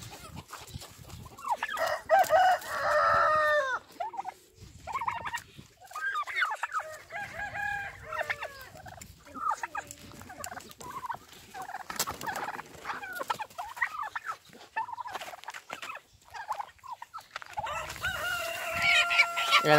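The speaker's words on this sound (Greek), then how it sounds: "Ένα κοτόπουλο το έσκασα από το κοτέτσι." A chicken that got loose from its coop clucks and crows repeatedly, close and fairly loud, in bursts across the whole stretch with brief gaps and no talking.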